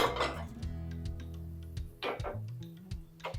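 A metal cooking pot is set down on a kitchen stove, with several sharp clinks and knocks spread over a few seconds against a low background hum.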